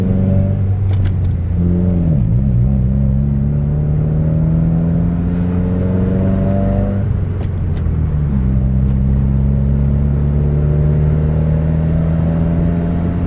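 Engine of a slammed Subaru WRX with a manual gearbox revs steadily up and down while a novice learns stick, a smooth close-up drone with a couple of clear pitch dips and no talking.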